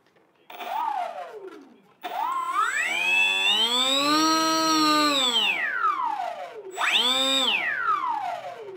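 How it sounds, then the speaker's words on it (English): The whistly electric motor of a Bixler RC plane revs up and down in several sweeping, high-pitched whines, the longest held for a few seconds, close and fairly loud. "It's a bit of a whistly motor, same as the other Bixler."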